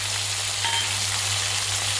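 Onion paste with garlic-ginger paste frying in a pan for Punjabi-style rajma masala, a close, steady crackling sizzle with a low hum beneath and no voices.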